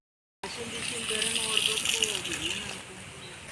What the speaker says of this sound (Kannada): ಅದಕ್ಕೆ ಇವಾಗ ನೀರು ಉಯ್ತೈತೆ